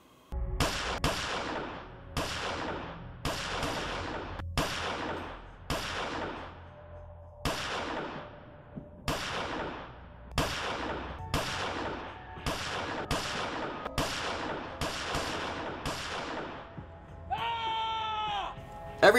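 Gunshots from the movie Hidden Rage, fired in a forest: about fifteen sharp, loud reports in an irregular series with ringing tails, ending in a brief tonal cry, with no talking.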